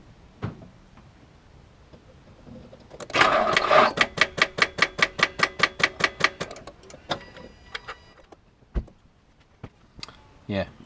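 An Infiniti V35 engine cranks over on weak batteries in a rapid, even chugging of about a dozen starter beats that slows and stops, followed by scattered clicks; no voices.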